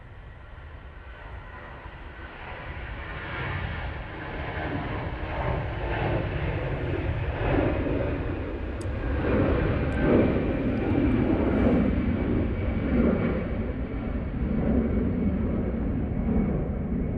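easyJet airliner departing Manchester Airport for Prague, a deep sustained engine roar building gradually from moderate to loud and holding, a broad rumbling takeoff heard from a spotting position.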